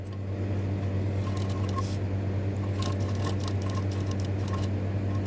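A sewing machine runs steadily through a seam of stitching during a tailoring lesson, with a constant motor hum and faint rhythmic clicking throughout, no voices.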